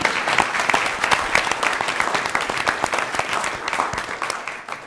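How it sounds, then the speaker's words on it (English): An audience applauds at a board of education meeting, a continuous, fairly loud patter of many hands clapping that fades slightly at the end. "So another round of applause for Sankalp."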